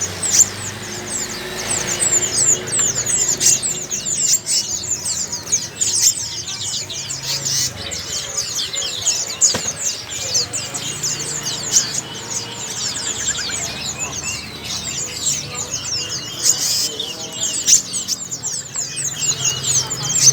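Bird calls fill the Pasar Burung Slawi Ayu bird market in Tegal: dense, continuous chirping and tweeting from many caged birds with occasional fowl clucks, under nearby voices talking throughout.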